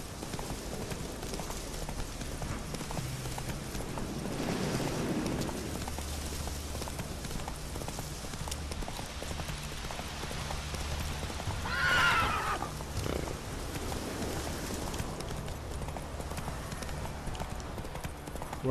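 Roach, Geralt's horse in The Witcher 3 video game, gallops with a steady clip-clop of hooves over a rumbling ambience, and a sharp whinny rises around the middle; no voices are heard.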